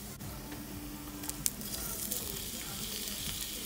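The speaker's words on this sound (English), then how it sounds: "Then sauté the garlic until it's slightly brown." Garlic sautés in hot oil in a pan, giving a steady close sizzle with a few sharp crackles and pops, including one louder snap about midway.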